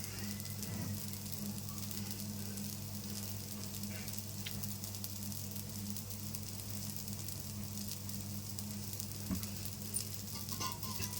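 Minapa dosa sizzling in oil on a hot pan, a steady even crackle of frying that runs throughout with a low hum beneath and no talk.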